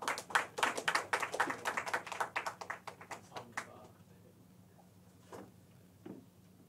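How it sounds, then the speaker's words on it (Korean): A church congregation applauds warmly during a Sunday morning worship service, with dense, loud clapping for a few seconds that quickly thins to scattered claps and fades into near silence. "뜨거운 박수로 할렐루야."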